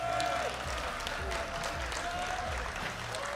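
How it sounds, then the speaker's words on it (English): A crowd applauding in a casino hall at a Street Fighter 6 fighting game tournament, a continuous roar of clapping and cheering with steady loudness throughout and faint voices mixed in. "Can we get a round of applause for everyone in the building tonight?"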